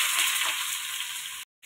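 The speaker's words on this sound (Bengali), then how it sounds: "গোল্ডেন কালার করে পেঁয়াজগুলো ভেজে নেব" Chopped onions sizzle and fry in hot oil in a wok with a loud, steady hiss up close, then cut off abruptly near the end.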